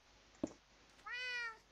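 A cat meows once in the Minecraft video game, a short clear tonal cry near the end after a single faint click, quiet and alone.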